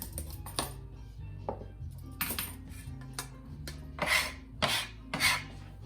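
A kitchen knife cutting carrots into small pieces, giving sparse, irregular scraping cuts and clicks against a board, with a few louder, sharper strokes toward the end over a faint low hum.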